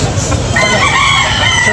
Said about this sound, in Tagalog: manok ng boss